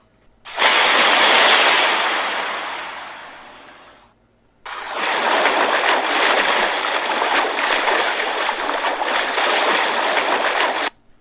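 A cartoon Catwoman lands in the water and swims: a loud broadband wash of splashing and surf swells up, cuts out briefly, then returns as a sustained rushing churn of waves and water.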